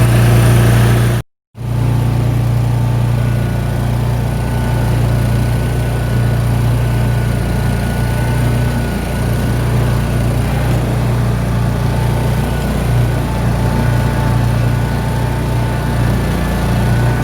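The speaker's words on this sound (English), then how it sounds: "I wanna see what happens when I drive away on my lawnmower." Riding lawn mower engine droning steadily and loudly at close range, a continuous low hum after a brief gap at the start, with no voices over it.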